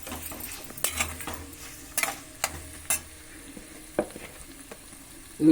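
A spoon scrapes and clinks against a pan as coriander powder is stirred into frying cauliflower, with sharp intermittent metallic knocks over a soft background sizzle.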